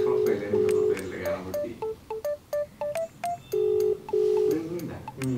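A phone call is placed from a mobile handset, first giving keypad-style tones, then repeated ringback beeps on the line, loud and close, in a regular on-off pattern with a voice speaking lightly underneath.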